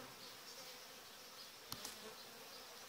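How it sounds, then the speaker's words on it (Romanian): Honeybees hum in a steady, faint drone on a hive frame during an inspection, with a couple of brief sharp knocks near the middle and no talking. "Albina stă destul de liniștită pe ramă"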